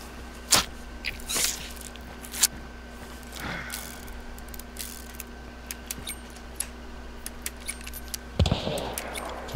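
Gun reloading in the video game Hunt Showdown: a few sharp mechanical clicks and metallic clatters spread over several seconds above a steady game hum, with a louder clunk near the end.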